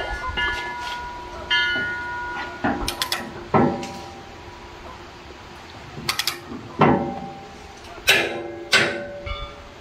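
A torque wrench driving a 3.3-to-1 torque multiplier tightens a big nut to 450 ft-lbs, giving repeated metallic ratcheting clicks and clanks in spaced bursts, close and fairly loud against a faint background hum.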